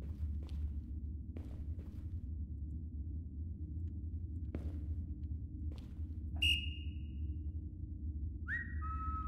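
In a VR horror video game, a sharp whistle blast rings out, followed a couple of seconds later by a second, lower whistle. Sparse soft footsteps and a steady low hum sit underneath.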